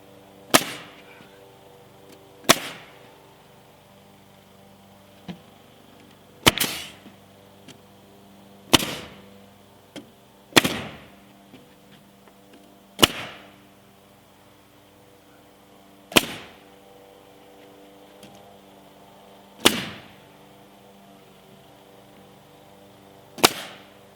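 A Ridgid framing and roofing nail gun fires nails in sharp, loud pneumatic bangs, about ten shots spaced a couple of seconds apart with short echoing tails and quiet gaps between.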